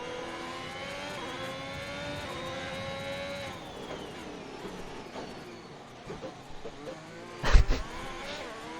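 Safety car engine in a racing video game during a Chinese round, a steady whining drone with shifting pitch that dips midway, followed by a sharp loud clack near the end.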